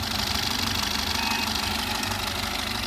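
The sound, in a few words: Maruti Suzuki Ertiga VDI diesel engine idling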